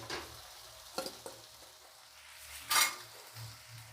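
Soaked poha and boiled potatoes are stirred in a pan for Gujarati batata poha, with a faint sizzle underneath and a few soft spoon scrapes and clinks against the pan.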